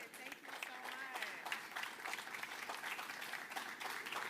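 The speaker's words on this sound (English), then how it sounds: "Another round of applause for these businesses" A crowd applauds steadily at a 2024 NFL Draft recap press conference in Detroit, with dense, continuous clapping at low level and voices faintly present underneath.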